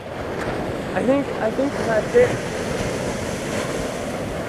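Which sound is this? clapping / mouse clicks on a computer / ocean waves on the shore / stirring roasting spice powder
ocean waves on the shore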